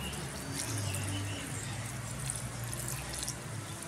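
Water is poured in a steady trickle with soft splashing into a bowl of minced meat for manti, about 100 millilitres, over a low background hum.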